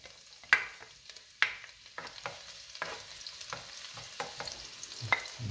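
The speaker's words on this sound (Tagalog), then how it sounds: "Gigis na tayo ng bawang" Garlic sizzling as it is sautéed in a hot pan, a steady frying hiss with a few sharp clinks of a utensil against the pan, all close up and without talk.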